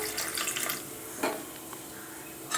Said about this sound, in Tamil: கொஞ்சமாக நான் தண்ணி விட்டுக்கிறேன்.